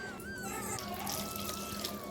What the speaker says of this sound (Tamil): தண்ணி ஒரு கப் அளவு விட்டுருக்கேன்